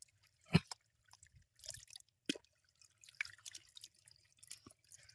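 Water drips from a water bottle rigged as a steady drinking-water setup, a few sharp isolated drops and small splashes landing at irregular intervals, close but faint against a quiet background.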